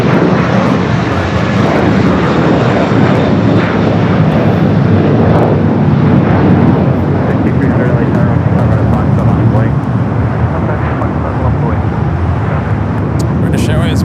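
A British Airways airliner taxis at LAX with a loud, steady jet engine roar that fills the whole stretch, while a voice talks faintly underneath.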